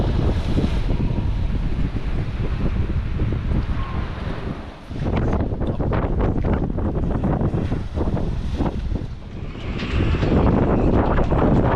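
Loud, continuous wind whistling over an RNLI lifeboat at sea between Largs and Stranraer, buffeting and roaring with a whistling edge, mixed with water sloshing, dipping briefly twice before surging again.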